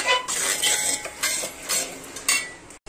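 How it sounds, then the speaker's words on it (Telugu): Onions and coriander being stirred and fried in a pan for upma, with a spoon scraping and clinking against the metal in steady strokes over a soft sizzle, close and fairly loud, with no talk. "ఇలా మనము ఫ్లేమ్ పెద్దగా ఉన్నా పర్లేదు, మంచిగా కలుపుతూ వేయించుకోవాలి."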